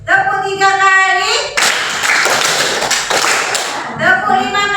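A classroom of children claps hands together in response to a teacher during an Indonesian language lesson, a dense burst of rapid overlapping claps following a spoken instruction, with the teacher's voice returning afterward.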